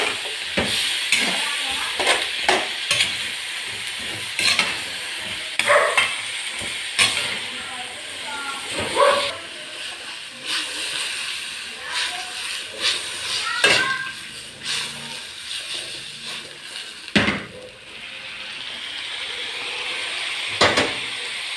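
Food frying in a pan is stirred, with a steady sizzle and hiss under repeated sharp scrapes and clinks of the utensil against the pan.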